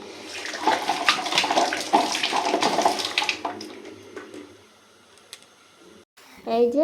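Dishes are scrubbed under a running tap, with a few seconds of loud splashing water that then cuts off into near quiet, followed by a brief voice at the end.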